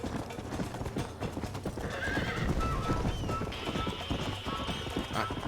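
In the Red Dead Redemption video game, a horse's hooves clip-clop in a steady rhythm and the horse neighs partway through, under someone talking.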